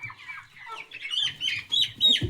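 Chickens cluck and squawk close by in a lush garden in Yerevan, a run of several overlapping calls rising in loudness toward the end.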